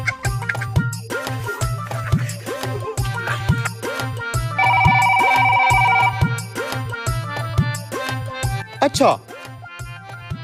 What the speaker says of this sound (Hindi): सीमेंट वाले का फोन था